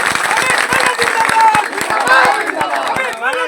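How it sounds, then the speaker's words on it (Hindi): Party workers at a campaign office opening clap loudly together, a dense burst of crowd applause with sharp individual claps, close and sustained, mixed with crowd chatter. "एक बार जोरदार तरीके से सारे कार्यकर्ता जोरदार तरीके से अपने लिए ताली बजाए"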